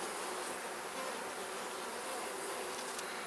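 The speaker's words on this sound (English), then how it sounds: "Oh, wow, there's a lot of bees up here." Dense, steady buzzing of many honeybees right at an open hive that is preparing to swarm, loud and continuous with no break and no voices.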